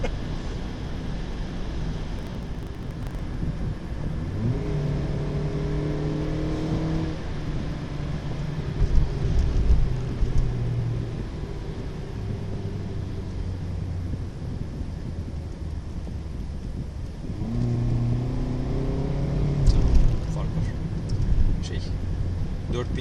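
A Toyota Yaris 1.33 Cool engine in sport mode climbs through two rising surges of revs over a steady bed of road and wind noise inside the car.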